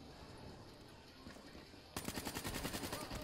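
Video game gunfire breaks out as a rapid burst of evenly spaced shots in the last second and a half, following quieter background game noise.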